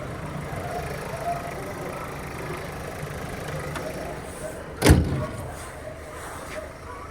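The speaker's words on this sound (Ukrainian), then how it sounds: "Двигун працює чітко" An Opel Zafira 1.8 engine idles steadily nearby with a low, even rumble, broken once by a sharp knock or thud.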